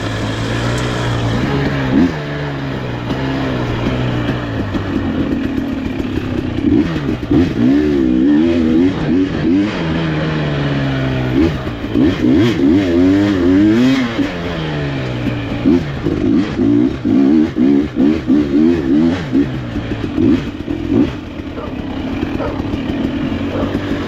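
A 2020 KTM 300 XCW dirt bike fitted with an FMF Fatty exhaust revs hard again and again, its two-stroke engine rising and falling in loud, close bursts with no talking.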